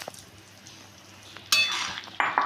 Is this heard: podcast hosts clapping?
no